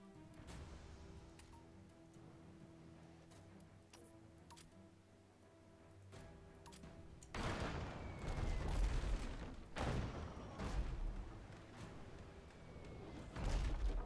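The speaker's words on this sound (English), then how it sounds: "That was a mortar." A mortar round strikes during a naval battle video game, a sudden heavy boom with broadband bursts repeating over the last half, preceded by quieter ambient ship hum and faint ticks.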